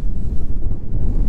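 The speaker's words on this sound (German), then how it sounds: "Der Wind hat ganz schön aufgefrischt." Strong, freshened wind at Amsterdam's Sixhaven harbour during a storm, a loud low buffeting rumble across the microphone with no break.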